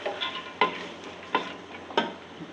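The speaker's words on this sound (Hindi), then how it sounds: "चने की दाल को मैं भून लेती हूँ तकरीबन 5 मिनट" Dry chana dal being stirred and scraped while roasting in a hot pan, with three or four distinct rattling strokes over a soft steady sizzle.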